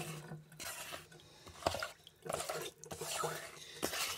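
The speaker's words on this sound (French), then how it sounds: "Alors, on va essayer de racler un peu la merde." Scraping clogged debris such as coffee grounds and ash out of a kitchen sink drain by hand, with intermittent wet scrapes, clinks and drips at close range and faint background sounds.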